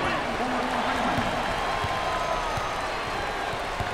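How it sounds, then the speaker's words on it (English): Student-section crowd at a 2023-24 NCAA college basketball game, Oregon at Syracuse, roars in a steady, dense wash of cheering and clapping, with announcers talking over it. "Look at the student section, Dick, cheering on their classmates, their peers"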